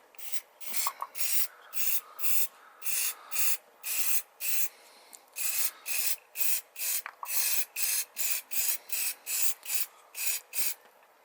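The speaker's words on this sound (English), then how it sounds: "So we spray the hairspray, give the can a shake," A hairspray aerosol can hisses in about twenty short, evenly spaced spray bursts, close up and steady, with no talking.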